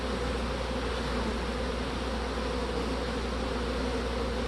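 Honey bees shaken from a hive frame while preparing mating nucs buzz in a dense, steady, close swarm drone with no pauses.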